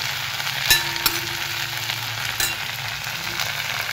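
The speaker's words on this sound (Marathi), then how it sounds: "अजून 1-2 मिनटं परतून घ्यायचे" Amaranth leaves (ambadi bhaji) are sautéed in a pan with a steady soft frying hiss. A few light clinks of a utensil against the pan sound near 0.7 s, 1.1 s and 2.4 s, with no talking.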